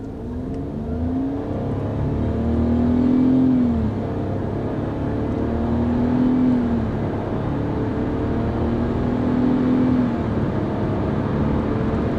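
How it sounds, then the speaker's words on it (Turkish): A Renault Clio 1.0 TCe pulls hard at full throttle, its engine note rising in repeated sweeping climbs with brief drops at each gear change, heard from inside the cabin over steady road noise. "Dip gaz yaptım."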